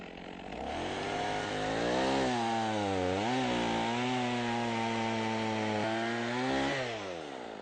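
A chainsaw runs steadily close by cutting firewood, its engine pitch rising and dipping as it bites into wood, with no voices over the roar.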